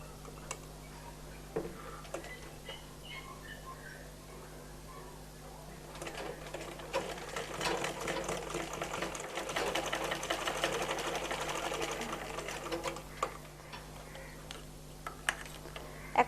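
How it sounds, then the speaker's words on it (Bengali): A sewing machine stitches baby frock fabric, starting with scattered ticks and light mechanical clicks, then running in a steady fast whirring burst before easing off, close and fairly quiet. "এখন এই কাপড়টাকে এভাবে ভাঁজ করে সেলাই করবো"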